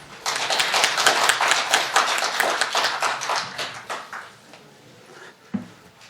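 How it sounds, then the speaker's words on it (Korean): An audience at an academic lecture on classical text translation claps to welcome a speaker, a dense burst of applause that thins out and fades over several seconds, ending with a single sharp knock. "박수로 맞이해 주시면 감사하겠습니다"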